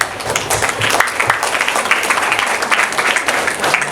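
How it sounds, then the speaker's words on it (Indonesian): Audience applause at a boarding-school graduation farewell ceremony, a crowd clapping steadily in a busy, uneven patter that stays fairly loud throughout, with faint voices mixed in. "Silakan tepuk tangan."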